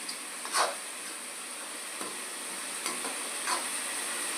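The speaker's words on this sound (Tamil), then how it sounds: "தக்காளியும் நல்லா எண்ணெயிலே நல்லா வதங்கிக்கணும்" Tomatoes sautéing in oil give a soft, continuous hiss, with a few brief stirring scrapes and spatters of the spoon in the pan, close but fairly quiet.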